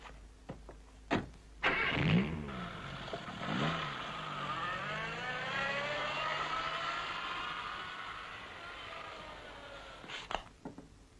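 A car engine starts and then idles and pulls away over several seconds, a steady mid-pitched hum with faint door and latch clicks before and after.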